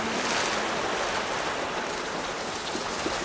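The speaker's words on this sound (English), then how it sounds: "I sit by the shore as the waves come in." Ocean waves washing onto a shore make a steady, broad hiss of surf and foam, close and continuous, with no voices.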